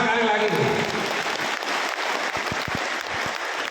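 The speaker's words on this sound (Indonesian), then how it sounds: "Tepuk tangan sekali lagi." Audience applause at a Ramadan safari event, dense continuous clapping from a crowd that stays loud throughout with a few sharper individual claps near the end, a voice briefly audible at the start.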